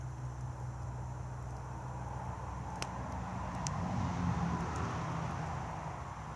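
Faint traffic hum from distant cars passing at night, a low steady roadway rumble swelling slightly as one vehicle goes by, heard outdoors beside a small fire with no talk.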